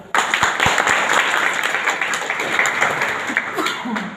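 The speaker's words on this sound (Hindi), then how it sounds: "अपने लिए ताली बजाते हुए," Audience at a business plan meeting claps for themselves, starting abruptly with a few sharp claps and building into steady, fairly loud applause that thins toward the end.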